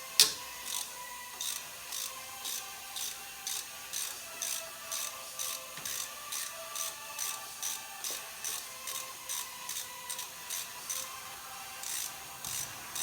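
A hand ratchet with a 10 mm socket clicks steadily in even, rapid strokes, loosening the brake hose bracket bolt on the steering knuckle of a 2002 Chevy Trailblazer. The sound is close and moderately quiet, with no voices.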